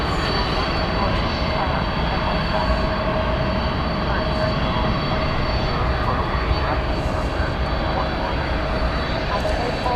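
A Boeing 767 at DFW Airport sends out a steady high engine whine over a dense, continuous rumble of engine noise, constant throughout.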